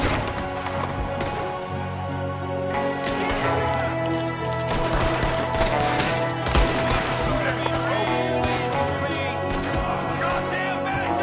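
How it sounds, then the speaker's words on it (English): Gunfire in Red Dead Redemption 2, rapid shots crackling through a dense, busy game mix with music and action noise, one gunman firing from a window, a steady loud barrage throughout with voices in the background. "There's another one shooting from the window."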